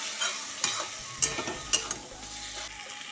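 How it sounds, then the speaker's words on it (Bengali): Chicken pieces sautéed with salt in a pan in a rustic home kitchen, a steady sizzle with repeated scraping stirs of a spatula, close and fairly loud, with no talking. "চিকেনগুলো দিয়ে দিই এবারে মা লবণ দিয়ে কষিয়ে দিচ্ছি"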